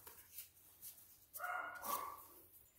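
A small pet dog barks indoors in a short burst, a bright yapping cluster rising about halfway through after quieter moments, moderately close but not loud.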